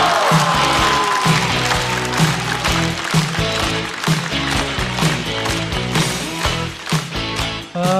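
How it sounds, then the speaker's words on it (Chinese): Audience in a stand-up comedy show venue with a second-floor gallery, applauding as a comedian is welcomed on stage: dense, sustained clapping from a large crowd with scattered cheers, loud and continuous. "掌声欢迎高寒"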